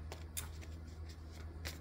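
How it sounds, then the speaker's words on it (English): Tarot cards shuffled by hand at close range, giving a series of quick, soft riffling bursts with brief pauses between them over a quiet background. "As you can see, I'm shuffling"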